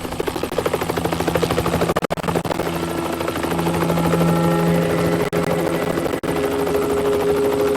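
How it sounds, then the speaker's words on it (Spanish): A Bell Long Ranger single-turbine tourist helicopter approaches and lands near a house courtyard, its rotor thump and turbine whine loud and steady throughout, with brief dropouts; no talking. "El hocico del helicóptero, que era un Bell Long Ranger de una turbina turístico, viene apareciendo"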